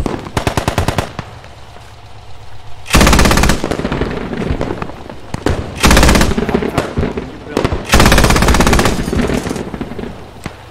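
Loud machine-gun fire rattles in rapid bursts during a 40-versus-40 Squad bridge-defense battle, close and dense with overlapping volleys and a few quieter gaps.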